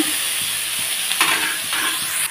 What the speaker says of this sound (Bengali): তো পেঁয়াজটাকে ভাজতে ভাজতে আমি কতটা লাল করে নিয়েছি বুঝতেই পেলে।